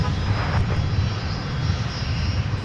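A Delta Airbus A330-200 taxis toward the runway at Minneapolis–Saint Paul airport, its engines giving a steady, loud low rumble with a faint high whine on top, unbroken throughout.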